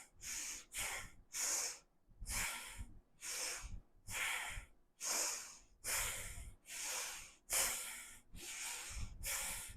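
Rapid, forceful breathing during a yoga thoracic twist, about a dozen loud, hissing breaths in a steady rhythm as the body twists side to side, close and with no talk.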